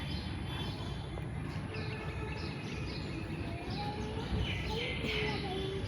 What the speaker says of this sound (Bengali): তো পাখির কিচিরমিচির শব্দ দিকে পাওয়া যাচ্ছে, কোকিল পাখি ডাকছে।